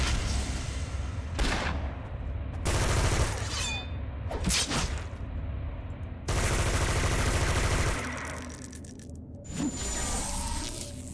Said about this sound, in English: Much easier with this ghost rifle.